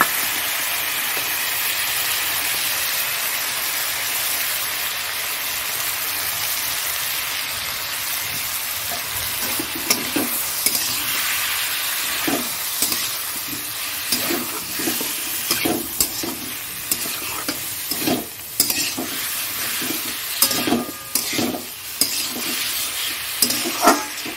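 Ginger paste and cumin paste frying in a pan for a fish curry with cauliflower and potato, a continuous close sizzle with repeated clattering stirs and scrapes growing busier midway, no talking.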